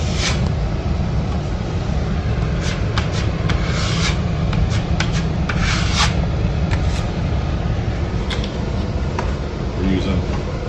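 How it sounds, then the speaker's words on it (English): All-purpose joint compound is scraped and spread over a drywall screw pop on half-inch sheetrock, a continuous close rasping smear with occasional sharper scrapes, loud throughout. "Getting one coat of all-purpose joint compound on this"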